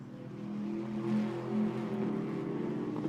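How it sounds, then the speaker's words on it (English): Ginetta GT race cars accelerate out of Luffield past the pits at Silverstone, a steady, rumbling engine drone heard at some distance with slight swells in pitch. "Lovely rumbling noise the cars make as they accelerate out of Luffield and past the pits."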